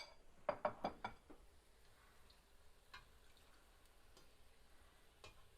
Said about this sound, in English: transfer it straight into my oil